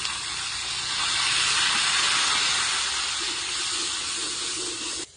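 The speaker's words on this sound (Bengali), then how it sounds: "এখানে আমি পেঁয়াজ বাটা দিয়ে দিচ্ছি।" Onion paste dropped into hot oil for a desi chicken curry, setting off a loud, broad hissing sizzle that swells and holds steady for several seconds before cutting off.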